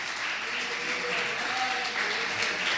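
A church congregation applauds in praise of God, a steady, even wash of clapping from many hands at a moderate distance, sustained for a few seconds with no speech over it.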